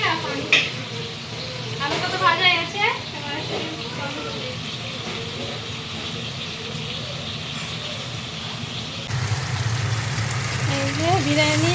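Chicken sizzles steadily in a pan while being cooked for biryani, a continuous frying hiss that runs throughout beneath someone talking.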